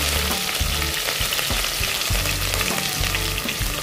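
Chopped onions sautéing in a pan for coconut milk rice give off a loud, continuous sizzle, with low thumps and scrapes of stirring breaking through at a fairly regular pace.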